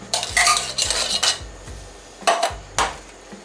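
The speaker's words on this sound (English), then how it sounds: "More stir, more stir. Stir it up." Pinto and black beans stirred in a pan, with a spoon clattering against the metal in bursts of scraping knocks, then a pause and two more sharp strokes, close and clear.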